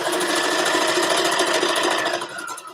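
A sewing machine runs continuously while stitching down the long side of a dress band, a loud, close, steady whirring hum that tapers off at the very end.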